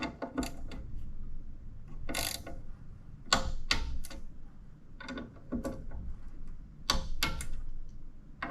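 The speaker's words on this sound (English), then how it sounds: "And finish off with a torque wrench set to 5 Newton" A torque wrench clicks and ratchets as bolts are tightened on an e-foil fuselage. Sharp, close mechanical clicks come in irregular bursts, with quieter handling noise between them.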